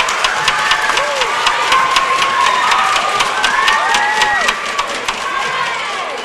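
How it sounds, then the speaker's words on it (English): An audience at a school orchestra night applauds and cheers, dense sustained clapping filling the room with scattered whoops and shouts rising above it, fairly loud and continuous. "Can we clap for her?"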